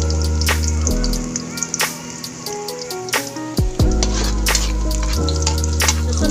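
Garlic and onion frying in hot cooking oil, a loud, steady close sizzle with occasional stirring clinks and crackles, no voices.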